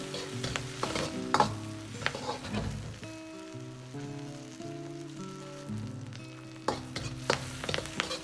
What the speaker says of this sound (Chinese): 先下入五花肉片炒出油脂，炒出香味。